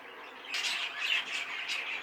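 Budgerigars squawking and chattering in a bird shed, a busy flock of bright, scratchy calls that rise and overlap close by.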